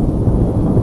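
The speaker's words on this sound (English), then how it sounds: "Occasionally, very loud thunder occurs." A deep, loud rumble of thunder rolls through, heavy and low, filling the moment without any speech.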